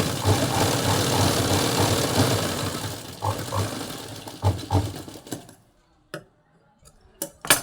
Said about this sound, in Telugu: నా మిషన్ కొంచెం సౌండ్గా ఉంటే కనుక అడ్జస్ట్ చేసుకోండి కొంచెం సౌండ్ని.